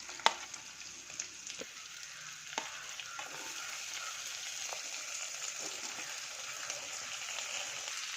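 Capsicum, carrot, cabbage and onion sautéing in a pan, a steady close sizzle with occasional sharp clicks and stirring scrapes.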